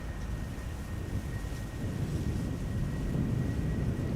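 A Boeing 777 jet at Amsterdam Schiphol Airport gives off a broad, steady low roar that swells slightly toward the end, with a faint high whine running through it and no voices.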